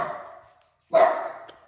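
A pet dog indoors at home lets out two short, loud barks close by, separated by a brief silence.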